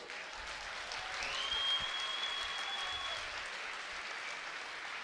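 Distant crowd applause at a fighting championship event honors two fighters, a soft, steady wash of clapping with a faint whistle-like tone running through it.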